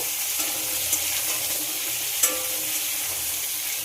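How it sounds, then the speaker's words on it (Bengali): Cut potatoes frying in oil after a tempering of five spices, a steady low sizzle with occasional stirring scrapes standing out, fairly close and quiet, with no talking. "আলুগুলো খুব ভালো করে ভেজে নেব"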